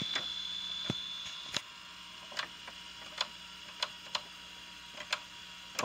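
A Sony VCR with a failing eject mechanism gives a series of sharp, separate mechanical clicks and ticks over a steady electrical hum and whine, spaced irregularly across the stretch with no one speaking.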